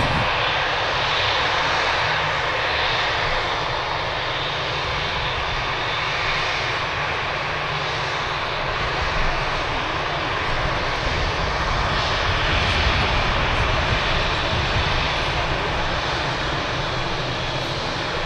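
Aircraft engines roar continuously at Manchester Airport, a loud, steady broadband rumble from a plane heading straight toward the listener, swelling slightly midway and holding strong throughout with no talking.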